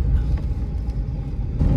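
A worn 90s rear-wheel drive Ford Mustang rolls down the road, heard from inside as a heavy low rumble of tires and engine with a few thumps from bumps in the surface.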